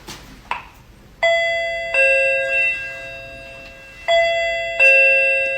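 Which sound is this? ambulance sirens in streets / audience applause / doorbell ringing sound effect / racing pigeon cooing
doorbell ringing sound effect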